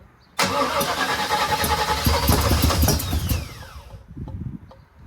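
The engine of a 1979 Chevrolet Malibu project car is cranked over on its first start, an abrupt loud whirring churn with a rising starter whine that fades after several seconds into sputtering, faltering turns, with no voices.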